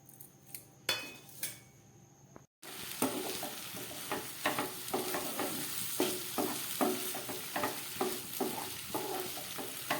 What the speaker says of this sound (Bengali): এবার আমি সামান্য একটু এই তরকার ডাল সিদ্ধ করার পরে নিচে কিছুটা জল ছিল, সেই জলটা আমি এবার এর মধ্যে দিয়ে দিচ্ছি।